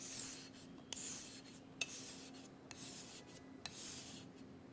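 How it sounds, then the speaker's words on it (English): A yanagi knife on a whetstone makes a soft, continuous rasping rub, close and quiet, broken by a few faint clicks as the blade shifts on the stone. "Keep sharpening until you feel the ridge"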